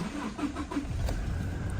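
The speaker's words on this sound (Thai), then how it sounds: "เดี๋ยวผมพาดูสตาร์ทฟังเสียงเครื่องยนต์ก่อนนะครับ" A used Toyota Revo pickup truck's engine cranks and catches, then settles into a low, steady running rumble close by.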